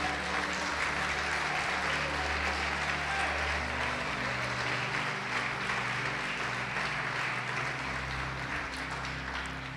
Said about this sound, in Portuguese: Você pode aplaudi-lo e glorificá-lo?